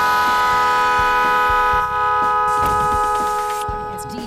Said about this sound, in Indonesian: klakson keong ini memiliki 8 suara